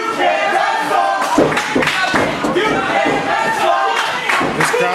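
Wrestling crowd at a CWA Nightmare Saturday Night Extreme event cheering and shouting loudly throughout, with a steady roar broken by sharper yells and a few thuds.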